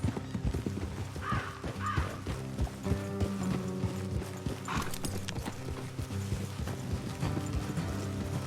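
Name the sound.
horses trotting, from a video game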